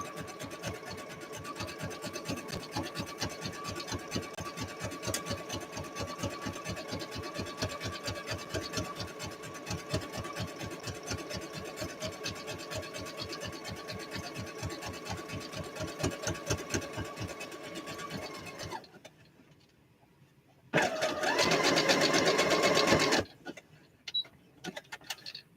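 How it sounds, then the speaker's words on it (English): A sewing machine zigzag-stitches a denim jacket, running in a steady fast mechanical chatter for about nineteen seconds, then stopping, followed by a short louder burst of whirring. "Just make it look uniform all the way around with my crappy zigzag stitching that this is going to do."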